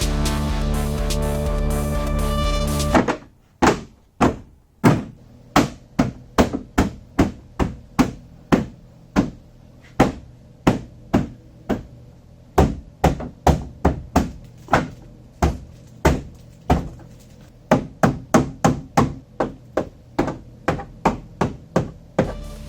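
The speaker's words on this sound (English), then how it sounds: "I'm hitting on this taillight here." A Volvo taillight is struck repeatedly by hand while the rear bumper is being fitted, producing a long series of loud, sharp knocks close by at an uneven pace. The knocking follows a few seconds of steady buzzing tone.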